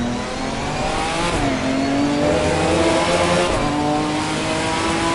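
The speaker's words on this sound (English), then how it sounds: "I quite like coming out of it in this Ginetta though. It sounds good coming out of there." Ginetta GT4 race car in Assetto Corsa Competizione powers out of a corner, engine note climbing steadily through the revs with a brief shift dip, loud and continuous with no talking.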